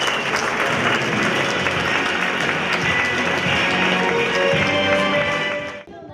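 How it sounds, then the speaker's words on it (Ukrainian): Sustained audience applause fills a hall during a college of arts 30th anniversary celebration, dense and loud throughout, then cutting off abruptly near the end. "Ваші оплески Геннадій Яковлевич."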